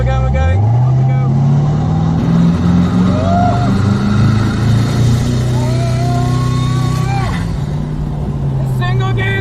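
A green carbon Koenigsegg Regera hypercar with a single gear accelerates hard on pavement, a deep loud engine roar rising steadily from inside the cabin, with people talking over it.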